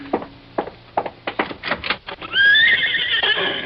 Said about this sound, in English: that's a horse out there